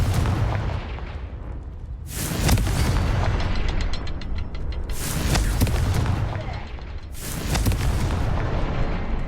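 Fire-blast spell explosions from the Hogwarts Legacy video game: three loud, booming bursts with crackling rumble tails, spaced a few seconds apart over a constant low drone.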